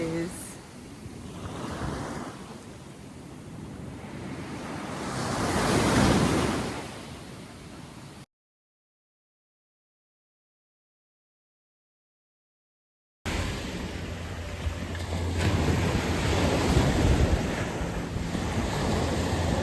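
Waves surge and wash on a beach in St. Thomas with heavy wind buffeting the microphone, broken by a few seconds of silence before the surf returns.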